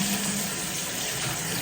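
Water runs steadily from a tap while shampoo is rinsed off hands, a close, even hiss with no voices.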